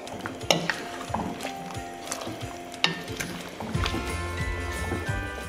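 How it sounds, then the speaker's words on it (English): Chopped garlic and sliced onions being stirred into braised Korean beef short ribs in a pot, with soft scraping and clinking of the utensil and a low bubbling sizzle, close and fairly quiet. "Stir in the chopped garlic and the sliced onions."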